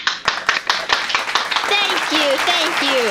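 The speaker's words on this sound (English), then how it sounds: "let's give all of them a nice round of applause" A small group applauds guest speakers, with quick, irregular hand claps in a short burst that gives way to chatter and children's voices.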